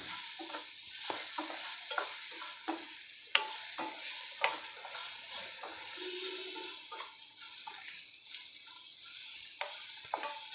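Plantain curry pieces stirred in a pan with salt, turmeric and chili, a steady soft sizzle with repeated scraping clicks of the spoon throughout, fairly close, no talking.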